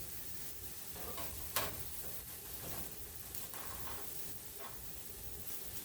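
Cucumbers sizzle in a hot pan of Southern stir fry as a spoon stirs them, giving a soft, steady frying hiss broken by occasional light scrapes and ticks, quiet and close with no talking.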